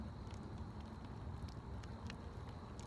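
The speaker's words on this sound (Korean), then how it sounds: "제가 제일 좋아하는 소리 중 하나가 이 불에 은은하게 타오르는 이 소리." A campfire burns softly with faint, scattered crackles and pops over a low, steady rumble of flame, quiet and close.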